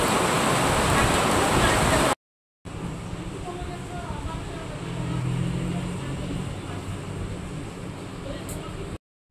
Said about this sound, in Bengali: আর দেখো বৃষ্টি এসেছে